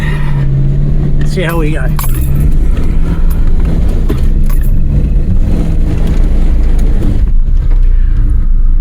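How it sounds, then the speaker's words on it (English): A Subaru labors up a damp, wet demolition derby track, its engine droning steadily beneath a man's speech, with some rattling and clunking of the car along the way. "let's see if we can get back up the demolition derby track in the Subi"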